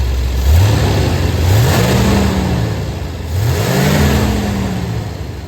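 A car engine revs twice after a high-flow air filter is fitted, each rise in pitch swelling and falling back toward idle, steady and fairly close with no talking.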